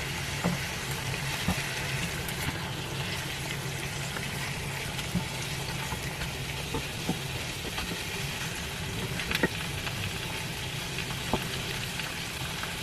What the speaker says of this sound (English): now I opened it and I'm just flipping it at the sides so all of it can be crispy